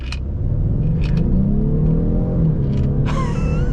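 A 2024 Ford Mustang EcoBoost Premium with a turbocharged four-cylinder pulls away from inside the cabin, its engine note rising in pitch through a gear before a brief mechanical whir, loud and near, no speech over it.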